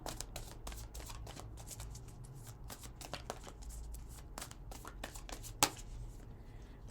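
An Earth Magic Oracle card deck is shuffled by hand, with quick crisp riffling flutters in irregular bursts over a low steady hum, close and fairly quiet, and one sharp snap near the end.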